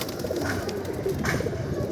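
Pigeons coo softly and steadily nearby in a loft, giving low rounded calls that overlap in a continuous murmur without talk.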